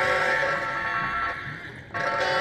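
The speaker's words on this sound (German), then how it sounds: "Eine Alarmfalle." A sustained electronic alarm trap drones in the video game Dungeon Keeper 2, a loud steady buzzing tone that dips briefly near the end before resuming.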